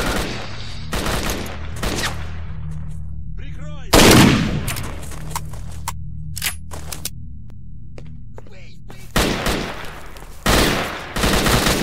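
Rapid bursts of gunfire in the PC game S.T.A.L.K.E.R.: Shadow of Chernobyl, during a railroad mission, crack loudly in short volleys with brief gaps and a few sharp single shots between them.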